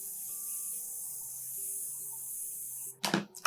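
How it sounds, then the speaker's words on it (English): A short burst of fine makeup setting mist from a Morphe Continuous Setting Mist bottle hisses twice in quick succession, close by, after a long stretch of quiet with a faint steady background tone. "We're gonna go with the Morphe Continuous Setting Mist."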